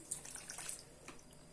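About 100 grams of cold boiled water poured into a pot of plums and walnuts, a brief faint splash and trickle heard up close, with no talk over it.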